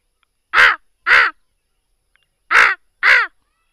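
A man imitates a crow's caw with his voice, giving four loud, harsh calls in two pairs, each pair quickly repeated, with silence between them.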